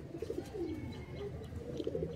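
In a loft of high-flying Kalodana and Andhra pigeons, a few birds give low throaty coos in short rolling bursts, close by and fairly quiet, over a constant soft murmur.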